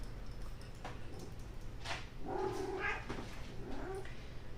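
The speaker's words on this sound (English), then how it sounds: "Don't mind my cat." A house cat in a kitchen, heard during cooking, lets out a couple of faint, brief meows against a low background hum, with no talk over them.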